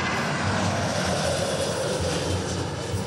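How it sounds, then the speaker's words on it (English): An aircraft landing on an airport runway, its engine a steady loud roar that holds throughout with no voices. "once this one lands, I'll keep an eye on that aircraft out there"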